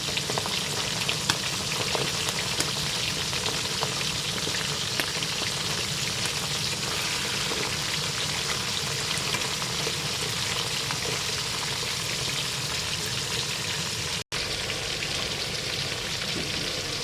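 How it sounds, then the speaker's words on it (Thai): Catfish frying in hot oil, a dense, steady crackling sizzle that continues without pause, close and fairly loud with no talking. "ทอดปลาดุกจ้ะพี่น้อง"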